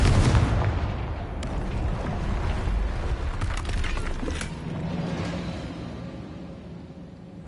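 A Confringo blasting spell explodes in the video game Hogwarts Legacy: a loud, rumbling boom opens the clip, followed by scattered crackling bursts and a long, slowly fading roar.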